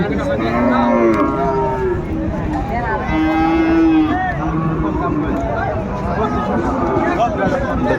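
A Friesian bull calf moos repeatedly at a cattle market, drawn-out bellows rising over a busy background of people chattering nearby.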